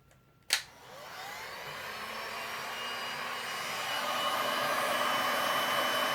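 A heat tool blowing hot air over freshly poured resin coasters, a steady broadband whoosh that starts after a brief click and holds loud and even to the end, with no talking.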